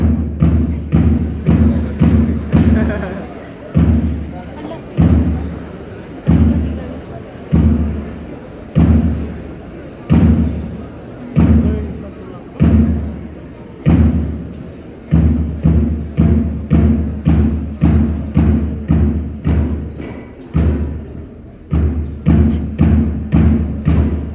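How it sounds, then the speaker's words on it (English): Cadets pass rifles to one another in a drill, producing a long series of regular, loud thuds roughly every second, each landing sharply and then fading, in a steady repeating rhythm. "As the cadet pass the rifle to each other"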